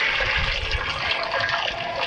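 Water gushes and splashes steadily into a kitchen sink as potatoes are drained, a loud, continuous pour with no talking.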